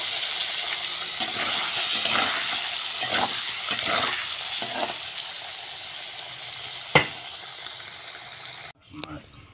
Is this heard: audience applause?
no